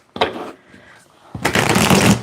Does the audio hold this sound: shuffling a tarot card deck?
yes